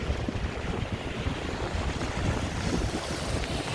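Steady wind buffets the microphone on a rainy downtown Chicago street in Streeterville, a constant broadband roar with water noise mixed in, loud and close, no voices.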